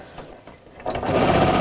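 A domestic sewing machine stitches through thick layers of denim for a cushion cover, starting quietly and then running in a loud, steady buzzing whir for the second half.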